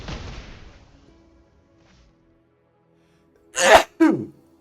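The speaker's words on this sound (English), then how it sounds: "I don't think I've ever sneezed on camera before." A single person sneezes twice in quick succession, close and loud, during a Gruul aggro ranked Standard game; a fading low rumble opens the moment, then near silence before the two sharp bursts.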